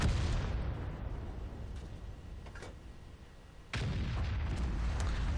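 An S51 self-propelled gun fires in World of Tanks on the Fishermans Bay map. The fading rumble of an earlier shot is followed by one sudden, loud, close blast about two-thirds of the way through, and its heavy boom sustains to the end.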